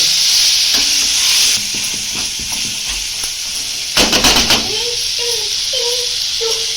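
Tamarind chutney dropped into hot oil, a loud continuous sizzle with a sharp burst of crackling midway, then softer bubbling as it settles.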